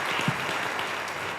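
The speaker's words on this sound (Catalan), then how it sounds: "Un aplaudiment per tots dos." Brief applause from an audience at the opening of a film festival, honouring the cine club president and the town's mayor; steady, moderately loud clapping with no voices, lasting just over a second.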